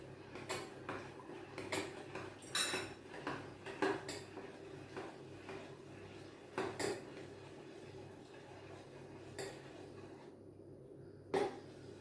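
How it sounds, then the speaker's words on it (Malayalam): A spoon stirs a milk mixture for egg, milk and sugar caramel pudding, making quiet, irregular clinks against the vessel over a soft background hum. "നന്നായിട്ട് ഇളക്കി യോജിപ്പിക്കണം"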